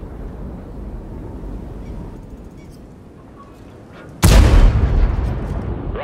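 A tank cannon fires in World of Tanks: one sudden, loud blast cuts through a low rumbling backdrop and trails off into a sustained roar.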